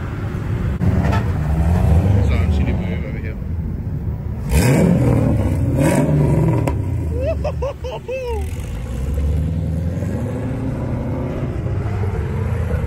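A drift car with an LS1 V8 engine revs hard on a drift day track, loud rising and falling engine blasts with a squeal of tyres partway through, other cars audible in the background.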